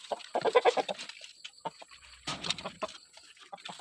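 Native country chickens and roosters in red, black and white plumage cluck and murmur nearby in bursts, with a louder squawk midway and soft rustling in between.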